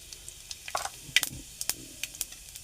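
Cumin and mustard seeds sizzling in hot oil in a home kitchen, with faint hiss and scattered sharp pops and crackles at irregular intervals, fairly quiet.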